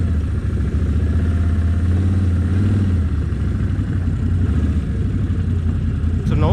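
A 2022 Can-Am Outlander 570 XMR ATV engine-braking down a muddy slope, its steady low engine drone rumbling continuously and fairly loud with a light clattering texture and no throttle blips.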